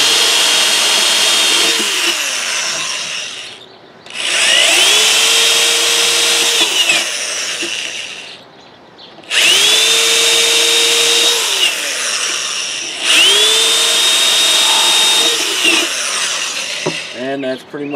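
A power drill with a 1/4-inch bit bores drain holes in the bottom of a wooden duck box, three loud bursts of whining motor that rise to a steady pitch and wind down, separated by short pauses.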